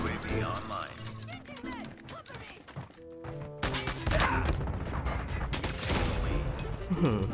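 Rapid shotgun blasts and bursts of gunfire from the mobile shooter Call of Duty Mobile crackle loudly through the clip, dense and overlapping with game effects and music.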